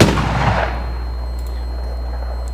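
A firework bursts with a deep booming crack in the FWsim fireworks simulator game, loud at the start and then decaying into a long fading rumble, with faint crackles afterward and no talk.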